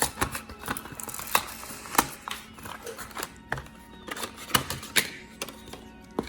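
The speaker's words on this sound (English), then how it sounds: "I think you gotta tear this thing" Camera gear packaging for a Canon 90D being torn and handled, giving a run of sharp crinkling rips and tapping clicks, close and fairly loud, with no talking.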